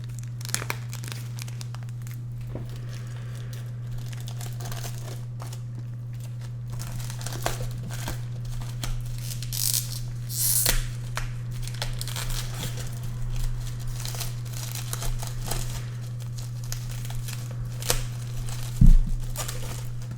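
Plastic wrapping on a manga volume crinkles and tears in close, quiet bursts as the package is opened by hand, with a sharper rip near the end over a steady low hum.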